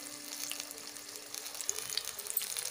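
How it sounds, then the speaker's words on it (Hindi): Green chillies frying in hot oil for street-style pakoras, a steady soft crackling sizzle with fine bubbling that runs throughout, close and moderately quiet, with no talking. "तो व्यूअर्स देखिए ये मिर्ची अच्छी तरह से फ्राई हो गई है दोनों तरफ से।"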